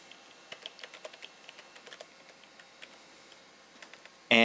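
Keys clack steadily on a computer keyboard while admin login details are entered during a WordPress install, a quick irregular patter of soft close taps with a louder burst at the very end.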